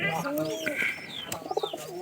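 Pet pigeons cooing close by, a few soft throaty coos and warbles over a quiet room, with faint background voices.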